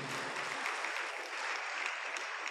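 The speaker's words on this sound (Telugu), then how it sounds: "చప్పట్లు కొట్టండి గట్టిగా." A church congregation at a morning fasting prayer service claps steadily and continuously. The applause is dense but fairly distant and quiet, with no voice on top.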